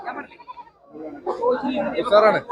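Young goat kids bleat at the crowded Chattiparamba goat market, with short close cries mixed among people talking nearby.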